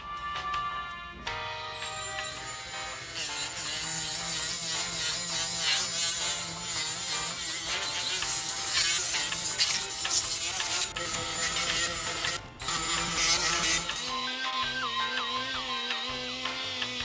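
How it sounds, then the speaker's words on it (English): A power tool grinds and sands a Porsche 911 brake caliper down to bare metal, a steady, whirring abrasive noise that runs for most of the stretch, then drops away near the end. "So I'm just going to grind this down with some sandpaper, and let's get it to the bare metal."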